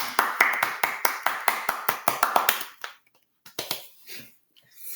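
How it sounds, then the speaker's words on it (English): Clapping for a special guest, a fairly small group of hands beating in a quick, even rhythm for about three seconds, then a few scattered late claps trailing off into near silence. "Please give a round of applause to our special guest"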